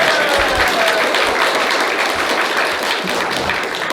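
Audience at a convention panel clapping steadily and loudly throughout, a dense even wash of applause with faint voices mixed in.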